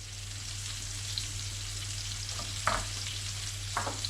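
Garlic and chilli sizzling steadily in a frying pan beside mushrooms, a soft continuous crackle with a few sharper spits and pops, close and fairly quiet.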